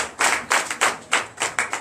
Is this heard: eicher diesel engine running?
no